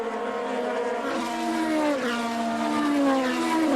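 Formula 3000 race cars scream through the stadium section of a German circuit, several high-revving engines overlapping loudly with rising and falling pitch as they pass and shift gears.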